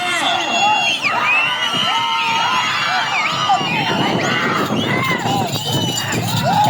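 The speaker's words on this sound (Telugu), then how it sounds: "కేకలు, విజిల్స్." Spectators shouting and whistling at a bull race, a loud, steady crowd roar with overlapping yells and whoops and bright whistle tones cutting through, continuing without pause.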